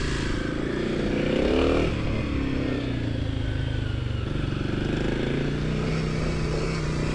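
A 2024 Kawasaki KLX 300SM with a 6-speed manual transmission is ridden on the road. The engine drones steadily and rises briefly as the rider accelerates, over continuous wind and road noise.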